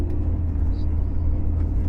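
A bus in Jamaica pulls away on a trip toward Kingston, its engine giving a steady, close, deep rumble that runs without a break under a constant low drone.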